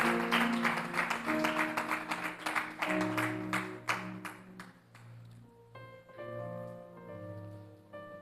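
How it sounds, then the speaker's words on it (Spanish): Church congregation applauding during a sermon, loud sustained clapping that fades as sustained organ or keyboard chords carry on beneath it. "Dale un aplauso al que vive, mi rey."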